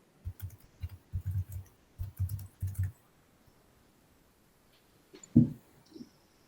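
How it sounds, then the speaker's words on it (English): Bursts of keyboard typing from a couple of people at a conference workshop session, quick clustered key clicks in the first few seconds, then near silence with a couple of isolated louder clicks. "it seems a couple of people are still typing."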